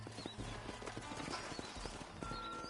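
Horses clip-clopping and shifting about as riders dismount in Red Dead Redemption, a quick irregular patter of hooves at close range with faint snorts, no talk over it.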